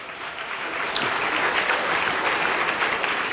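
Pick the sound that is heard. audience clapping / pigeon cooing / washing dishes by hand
audience clapping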